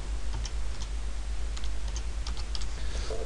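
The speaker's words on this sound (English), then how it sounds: "I'm going to type the greater than symbol," Keys tapped on a computer keyboard while entering a greater-than symbol and a date into a database query criteria field, a few light scattered clicks over a steady low hum, close and fairly quiet.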